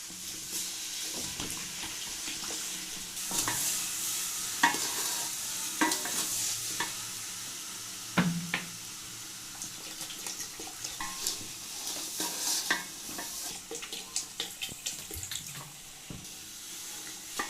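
Water goes into a large pot of lentil halwa with sugar, followed by long stretches of stirring. A spoon scrapes and knocks repeatedly against the pot over a low sizzle and bubbling, with no talking.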